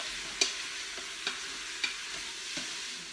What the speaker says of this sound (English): I love the sound of meat cooking in the Instant Pot